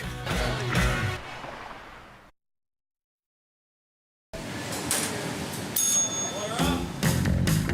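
A bright brunch bell rings a few times amid busy restaurant background sound and talking in downtown Detroit, after a brief stretch of silence.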